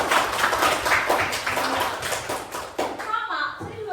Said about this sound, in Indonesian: Coba tepuk tangan untuk Sebatara.